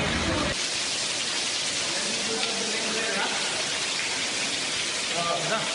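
Heavy rain pouring onto flooded streets in Qatar, a loud, continuous hiss of falling water that stays steady throughout, with a voice faintly beneath it.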